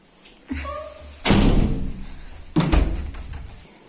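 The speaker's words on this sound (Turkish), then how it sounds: "Melek Hanım kapıyı açtı." A house door being opened and shut, with a light click, then two loud heavy thuds of the door swinging and slamming, close by with some background voices.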